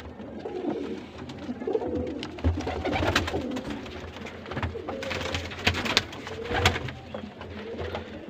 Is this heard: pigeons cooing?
yes